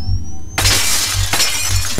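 A glass window shatters in the horror game Cry of Fear: a sudden loud crash with bright splintering glass after a quiet hum, followed by scattered tinkling shards, close and alone.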